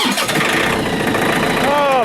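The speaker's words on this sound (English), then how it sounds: "now we gotta see if we can get the tractor going again" An old tractor that has sat out all day in the snow cranks and catches, a loud, steady engine churn with people talking over it.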